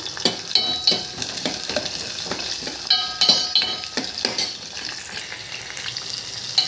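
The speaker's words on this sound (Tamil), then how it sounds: "கறிவேப்பிலை அதை போட்டு நல்லா வணக்குவோம்" Curry leaves and garlic sautéing in a pan for a thorny nightshade gravy, a bright crackling sizzle with repeated stirring scrapes and metallic clinks of utensil on pan, close and loud, no talking.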